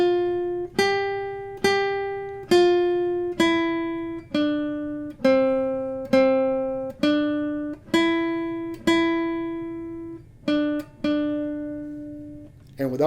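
Single picked guitar notes, each downstroke on the first string, spell out the opening line of Beethoven's Ode to Joy in an even, unhurried rhythm, clear and close with each note ringing briefly.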